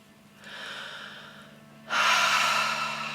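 Slow, audible breaths during a breathing exercise: a soft inhale-like rush followed by a louder, longer airy exhale, close and unaccompanied, over a faint low hum.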